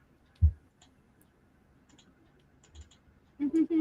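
A few light computer keyboard clicks tapped sparsely in a quiet room, followed by a short burst of voice at the end.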